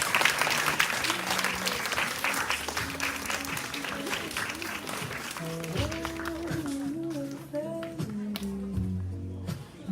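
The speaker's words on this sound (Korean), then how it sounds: "선생님들 나오실 때 먼저 박수 한번 쳐주시면 감사하겠습니다." Applause rises from the audience at a church middle-school youth worship service as teachers come out, a dense clatter of claps across the room that continues while music with a low bass line plays underneath.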